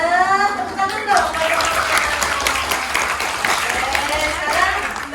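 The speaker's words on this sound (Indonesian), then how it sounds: "benar, tepuk tangan dong" Lively applause from a group of children visiting the Indonesian parliament, steady dense clapping with some voices mixed in, close and loud.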